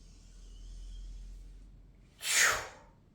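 A single deep, forceful inhale during a qigong breathing exercise, heard close and sharp near the end after a stretch of quiet room hum.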